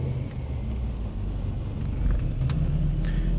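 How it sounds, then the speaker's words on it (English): Car engine on a dyno during a full-throttle ramp run, a loud, close, steady rumbling roar that builds slightly in the final second, with no voices. "we're going to go through and do a full throttle ramp run here"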